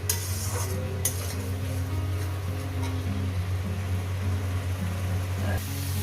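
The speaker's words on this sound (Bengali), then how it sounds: "এইটা একটু কষিয়ে নেব যাতে রসুনের ফ্লেভারটা যাতে কাঁচা গন্ধটা যাতে চলে যায়" Garlic stir-frying in a pan for an egg, potato and ridge gourd dish, a steady low sizzle with occasional scrapes and clinks of a utensil against the pan, continuing throughout.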